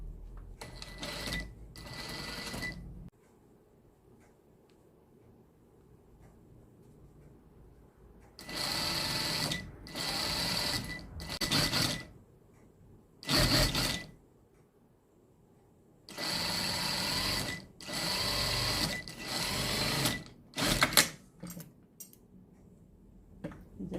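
Sewing machine stitching the hem of a knit skirt in several bursts of rapid mechanical whirring, each lasting a second or two, separated by quiet pauses, heard up close.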